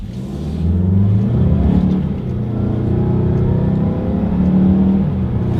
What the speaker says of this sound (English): let's test out the acceleration here on the CX-5, and let's see how quickly we can get this one here up to speed